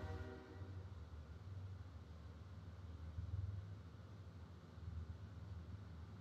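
A train rumbles steadily in the distance for several seconds, a low continuous roar with no talking over it.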